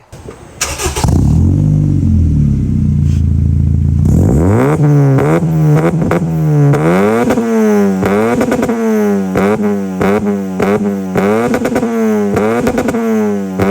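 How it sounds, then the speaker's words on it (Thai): A Honda Civic FD R18 automatic starts, idles briefly, then revs repeatedly through a loud aftermarket Udomwun exhaust, with sharp rising and falling blips close to the microphone. "เดี๋ยวเราไปฟังชุดคิดปลายท่ออุดมวันกันดีกว่าว่าเสียงเป็นไง"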